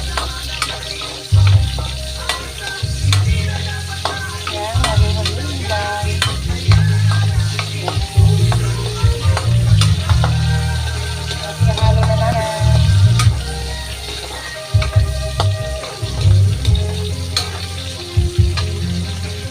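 Garlic and onion sautéing in a pan for pinakbet, loud close sizzling with repeated scraping stirs and the clatter of a spatula throughout, without speech.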